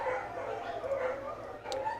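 Several dogs bark and yip in a house nearby, a steady muffled racket with whimpering, howl-like notes and faint talk beneath it.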